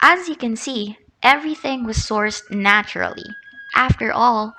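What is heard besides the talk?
No everyday noise stands out behind the speech.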